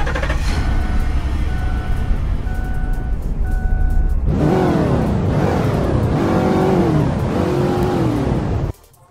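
A 5.4 tow truck engine in the Roblox game Greenville idles with a steady low drone, then revs hard through repeated rising and falling sweeps for several seconds before cutting off abruptly.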